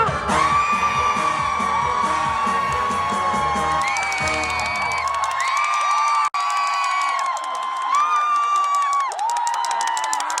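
Outdoor crowd at a provincial sports festival concert cheering and whooping loudly after a singer's song, with sustained shouts and yells, bright sung or shouted tones, and a momentary dropout midway.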